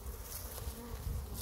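Honeybees cluster at hive entrances in an apiary, their dense, continuous buzzing fairly faint but steady throughout, with no speech.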